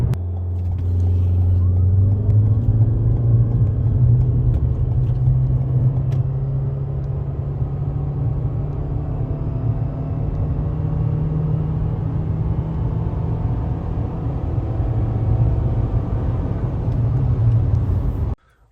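Toyota Corolla hybrid car accelerating hard from 0 to 100 km/h: a steady, loud interior drone of engine and road noise, with a low pitch that rises gradually over nearly twenty seconds before cutting off.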